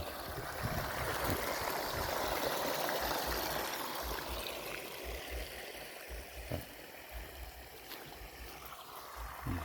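Water pouring and splashing from a small solar-powered submersible pump in a portable solar-panel pumping setup, a steady close gush with a few faint knocks and no speech.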